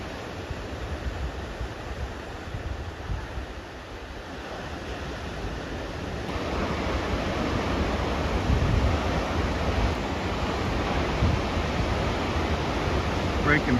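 Ocean surf at a Big Sur break with a good left-hander, a steady broad wash of breaking waves with rumbling low end, building a little louder in the second half, with some wind noise across the microphone.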